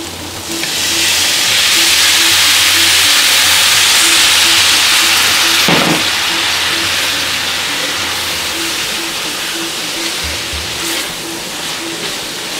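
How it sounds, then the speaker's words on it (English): Cooking wine hits a hot pan while making lamb pasta, bursting into a loud, broad sizzling hiss that swells quickly, holds strong, then eases slightly over several seconds, with a steady hum beneath and no talk. "I'm gonna add in my cooking wine."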